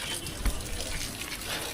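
Water runs steadily into plant pots during a quick watering of the garden pots, a soft continuous gush and splash at moderate distance with faint background noise.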